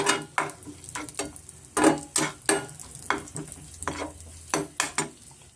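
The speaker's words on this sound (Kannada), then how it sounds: "ದ್ರಾಕ್ಷಿ ಗೋಡಂಬಿ ತುಪ್ಪದಲ್ಲಿ ಫ್ರೈ ಮಾಡಿದ್ದಾಯಿತು." Cashews and raisins fry in ghee over a medium flame for a festival sweet pongal, with a steady sizzle under repeated close scraping stirs and clinks of a spoon against the pan.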